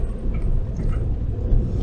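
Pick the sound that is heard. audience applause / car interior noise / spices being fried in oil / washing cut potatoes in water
car interior noise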